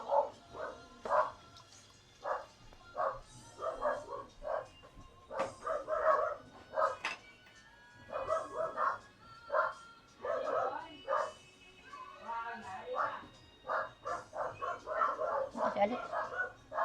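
A household dog yips and barks in short repeated bursts, fairly close, mixed in with people talking during home cooking for a family birthday.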